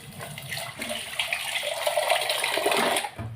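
Water poured into a pot of kara kuzhambu, a near, steady splashing gush running for about three seconds before stopping abruptly, with no talk over it.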